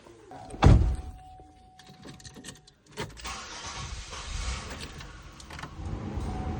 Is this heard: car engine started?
yes